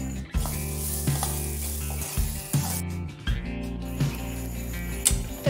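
Green soybean seeds roast in a little oil in a kadhai, with a steady sizzle and repeated scraping strokes of a spatula against the metal pan at an uneven rhythm, close and clear, no speech.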